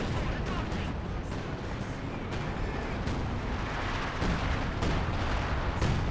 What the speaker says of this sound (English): More Soviet artillery looks like.